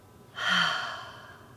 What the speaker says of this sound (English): as you breathe in, up, and out